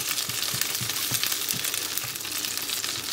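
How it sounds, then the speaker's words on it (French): Carrots sizzle in melted butter for a French pot-au-feu, giving a steady, close frying hiss with soft, regular low thumps beneath it. "Maintenant que mon beurre a bien fondu, je vais y mettre mes carottes pour les retirer un petit peu et leur donner un bon goût de beurre."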